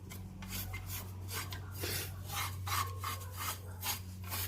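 On a 1996 Honda Civic, a faint, continuous rasping and rubbing comes from the brakes. The scraping swells and fades over a low steady hum, with no talking.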